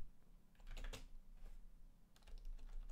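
Rapid keystrokes on a computer keyboard come in two bursts separated by a short pause, close and fairly clear, with no talking.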